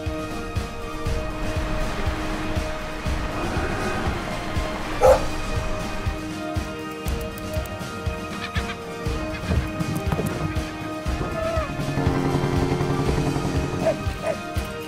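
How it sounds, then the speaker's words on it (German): A dog barks a few times in a Lassie film clip amid a busy mix of music and background noise, the barks short and not very prominent. "Hast du das gehört? Das Bellen?"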